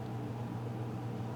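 An electric fan running in a quiet room, heard as a faint, steady low hum with soft airy noise, unchanging throughout, with no talking.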